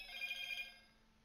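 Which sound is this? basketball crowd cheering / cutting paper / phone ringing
phone ringing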